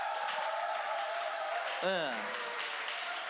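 A church audience applauds two young performers, a steady broadband wash of clapping that runs the whole time, with one short spoken word cutting in briefly partway through.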